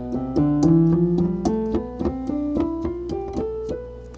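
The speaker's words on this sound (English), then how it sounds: "A Locrian scale is going to sound like this." Guitar runs through a Locrian scale in the E-shape position of C diatonic, a steady sequence of about a dozen single plucked notes stepping along, close and clear with no talking.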